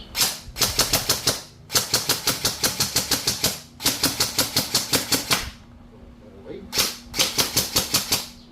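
A Zion Arms airsoft rifle with a mid-cap magazine fires close and loud in rapid, snappy bursts of rattling shots, four long strings separated by short pauses.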